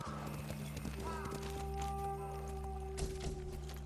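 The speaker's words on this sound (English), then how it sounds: "I'm going to keep this horse." A white horse in the video game Ghost of Tsushima, with soft hoof clops and a neigh, under steady game music and ambience.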